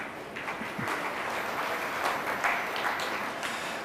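An audience claps steadily throughout a Hindi spiritual discourse by Shoonyo Ji Maharaj, a dense, even roar of many hands with no talk over it.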